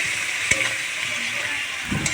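Spiced masala for a Bengali fish curry fries with a splash of water in a pan, a steady hiss with a couple of brief stirring knocks, no talking.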